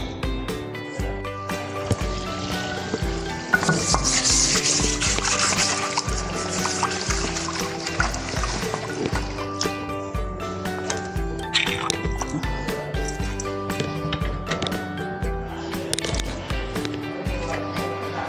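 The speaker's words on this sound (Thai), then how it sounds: "เดี๋ยวผมลองมาราดน้ำกันนะครับ ว่ามันออกสักแค่ไหนนะฮะ" Water poured over a surface to rinse away stubborn limescale stains, a steady splashing, trickling flow with drips, fairly close and continuous under some faint background noise.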